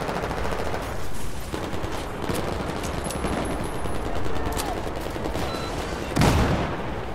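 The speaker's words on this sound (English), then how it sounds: "getting shot through walls" Rapid automatic gunfire in Battlefield 4 on the Dragon's Teeth Lumphini Garden map fills the whole stretch with dense, continuous bursts. Several weapons overlap, and a heavier blast lands near the end.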